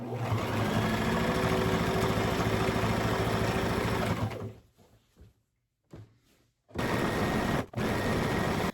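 A sewing machine runs steadily while back stitching the corners of a portable two-sided quilt design wall, a continuous motor whir for about four seconds, then stopping, with a few brief bursts of stitching near the end.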